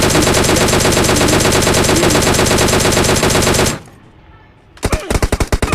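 Rapid automatic gunfire from a battle royale video game on the Livik map, a long dense burst of loud shots that stops abruptly, then a few separate heavy shots after a short lull.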